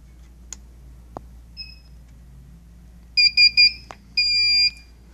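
A Solaris infrared perimeter barrier gives its audible alignment tone: three quick, loud electronic beeps, a short pause, then one longer steady beep, with faint clicks before and no talking.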